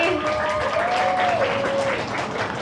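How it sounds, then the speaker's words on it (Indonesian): An audience at an Islamic philanthropy talk gives loud, sustained applause, a dense wash of clapping that fills the whole moment, with a faint voice or tone running underneath. "Boleh beri tepuk tangan yang meriah sekali lagi."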